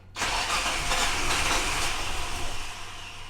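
A Nissan GQ Patrol engine fitted with a Holley 350 carburettor cranks and catches, producing a loud, close, continuous mechanical roar that holds steady for about three seconds with no talking.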